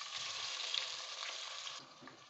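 Finely chopped onions frying in hot oil, a soft, even crackling sizzle that fades slightly toward the end, heard alone and at a low level.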